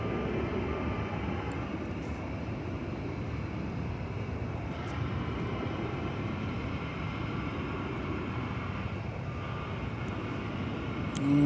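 Qatar Airways Boeing 777 airliner at DFW Airport, a steady broadband jet roar sustained throughout, fairly distant and even, rising slightly at the very end.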